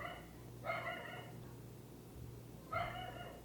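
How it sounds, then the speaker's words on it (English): Dogs bark in two short bursts separated by a pause, moderately faint over a low steady background hum. "Dogs."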